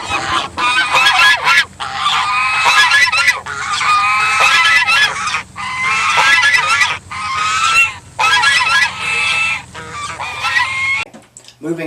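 Loud, boisterous Oregon Ducks football fans making duck-like honking and quacking calls in a stadium, a dense continuous chorus of honks in bursts with brief dips, close and loud throughout.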